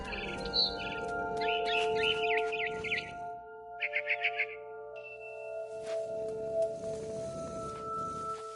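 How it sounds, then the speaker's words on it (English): A barn swallow in a video game chirps in quick bright bursts, a run of twittering notes then a short rapid series, over a steady tonal game music hum. "Then I heard chirping outside my window. It was a barn swallow going back to her nest."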